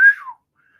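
A single sharp whistle imitating a steaming kettle, rising quickly then sliding down in pitch before a faint, thin trailing tone, loud and close with no talk.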